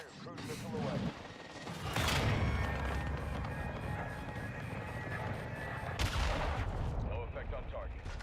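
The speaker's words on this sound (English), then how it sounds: "Trojan 6-2, cruise missile away." A cruise missile strike in Call of Duty: Modern Warfare 2 booms loudly, with a sustained rumbling roar and a second heavy blast near the end, amid dense battlefield noise.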